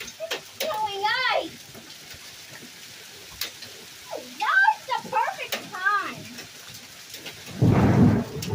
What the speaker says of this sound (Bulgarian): Ооо, голяма грамотевица, Тонка.